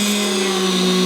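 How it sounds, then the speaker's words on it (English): A small Dremel drill press whines steadily at a constant pitch while drilling aluminum, loud and close, with a fine grinding texture throughout. "this little Dremel drill press does the trick really well"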